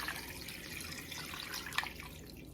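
Water poured from a tap over salted chicken wings in a bowl, a soft steady trickle with light splashing, quiet and alone.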